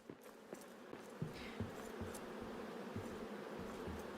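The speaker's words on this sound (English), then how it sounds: "I kind of expected a lot of bees to be kind of disturbing" Bees buzz softly and steadily inside a room in a video game, a faint continuous hum with occasional soft clicks, and nobody speaks over it.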